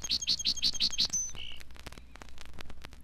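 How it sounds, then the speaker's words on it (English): A song sparrow sings alone, close and clear: a quick run of six bright repeated notes followed by a buzzy trill and scattered rapid chips. "the gentle song sparrow"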